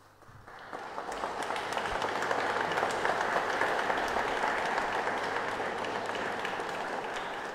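A church congregation applauds during a Holy Week rite in Trapani, the clapping swelling quickly from silence into sustained, dense indoor applause from many hands that holds steady to the end.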